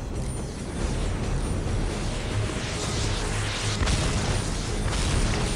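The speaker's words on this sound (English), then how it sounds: "Oh, grenades, eh?" Grenades go off one after another in the Star Trek: Elite Force II game, with deep, rumbling booms and crackling bursts layered over a dense, loud din of battle.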